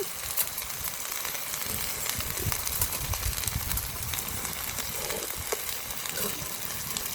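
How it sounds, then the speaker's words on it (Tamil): Okra being sautéed in a hot pan makes a continuous dense sizzle with a low rumbling undertone, steady and close throughout. "அனல் வீசுது அப்பா நல்லா வதக்கணும்"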